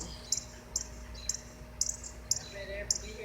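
Wild birds call in the woods, a series of about six short, high chirps evenly spaced and fairly faint over a quiet background hum.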